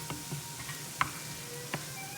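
Onions sautéing on low heat in a pan give off a faint, steady sizzle, broken by a few soft clicks and taps.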